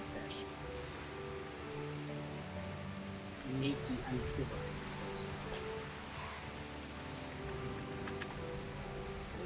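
Rain in the video game Final Fantasy XIV Stormblood makes a steady soft hiss under sustained game music, with a person speaking briefly over it.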